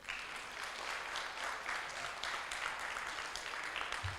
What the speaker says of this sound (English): So a big clap for them.